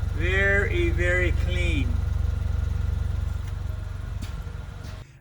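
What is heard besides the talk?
2016 Range Rover Evoque engine idling at the exhaust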